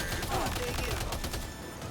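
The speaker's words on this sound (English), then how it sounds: "Who the fuck is shooting me?" Rapid gunfire in a modded Grand Theft Auto IV session, a dense crackling burst of shots that runs through the whole two seconds at a steady moderate level, with a voice faintly mixed in.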